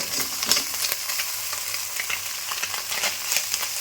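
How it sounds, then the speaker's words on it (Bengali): Fish fries in hot oil with a steady, fairly quiet sizzle broken by sharp crackles and pops at uneven intervals; no one speaks. "কি ভাজা হচ্ছে দেখো একদম মুচমুচে ভাজা হবে"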